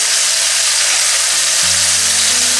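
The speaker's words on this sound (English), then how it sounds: "Once the ghee is hot, add the mutton pieces." Mutton pieces fry in hot ghee in a cooker, giving a loud, steady, hissing sizzle that runs unbroken for a few seconds, with a low hum underneath toward the end.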